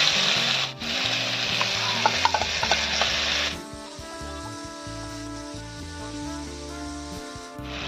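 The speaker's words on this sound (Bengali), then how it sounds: "বাটা মশলাটা কষানো হয়ে গেছে" Ground spice paste frying in a pan for a thin tilapia fish curry: a loud, bright hiss and sizzle with stirring scrapes for a few seconds, then the sizzle drops to a quieter, steady bubbling simmer.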